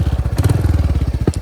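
A 2023 Royal Enfield Hunter 350 motorcycle's single-cylinder engine and exhaust thump in a rapid, loud, even rhythm close by, with a brief mechanical clatter near the end.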